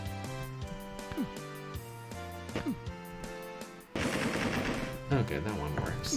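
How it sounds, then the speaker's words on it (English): A Tommy gun fires in the survival-horror game Alone in the Dark 2. Sharp bursts of shots crack over a steady music track, and a denser stretch of rapid fire comes in the second half. "A Tommy gun and a loading clip."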